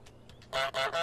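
Three loud, close goose honks from Untitled Goose Game burst out one after another near the end, following a few fainter honks, each a brassy nasal squawk with no talking over them.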